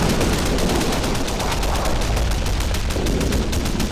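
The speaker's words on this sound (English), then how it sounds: "Laying down a bit of suppression fire." Sustained MG42 machine-gun fire in a World War II video game battle at Küstrin, a dense, unbroken stream of rapid shots close and loud for the whole stretch, with no talk over it.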